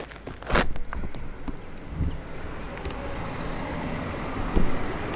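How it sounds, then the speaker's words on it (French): Busy street traffic rumbling past: a continuous wash of road noise with a few sharp nearby knocks and passing-vehicle swells, wind buffeting the microphone at times. "c'est que la rue est trop bruyante pour la caméra"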